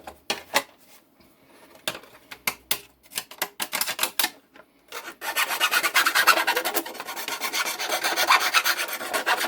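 A small hand file deburrs a metal part during a nitrous system refit on a car, first as a string of separate rasping strokes, then as a fast, continuous, loud grinding rasp close by, with no talking.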